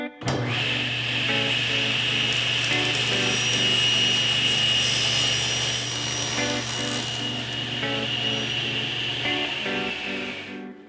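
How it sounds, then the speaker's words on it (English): A table saw rips wood veneer panels to exact size for mid century modern end tables, its motor humming loud and steady with a continuous cutting whine, then spinning down near the end; no voices. "So now I can rip them to exact size on the table saw."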